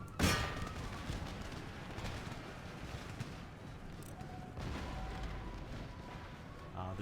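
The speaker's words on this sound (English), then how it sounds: "Our cannon, our artillery, causing some hurt." Cannon and artillery fire in the strategy game Empire: Total War: a sharp booming blast opens, then a rumbling, clattering battlefield din carries on underneath.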